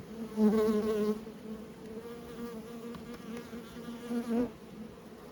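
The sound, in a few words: Buckfast honey bees buzzing in hive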